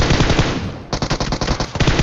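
Rapid bursts of gunfire from a battle royale video game where the player carries a shotgun, loud and dense, with a steady barrage followed by a string of sharp, closely spaced shots and no talking.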